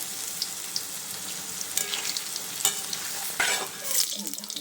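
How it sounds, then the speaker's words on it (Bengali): Ground urad dal batter rosbora fritters frying in hot oil, a steady loud sizzle with bursts of crackling and occasional stirring scrapes, close by and without talk. "এখন মিক্সিতে মিক্স করে নিয়ে এটা ভাজাভাজি করছি"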